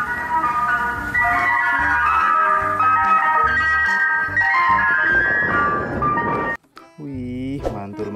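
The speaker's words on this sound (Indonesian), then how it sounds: "Ini ada mobil es krim" A toy ice cream truck plays its tinkling electronic jingle loudly and steadily, with a voice talking over it; the tune stops and a few short sung notes follow.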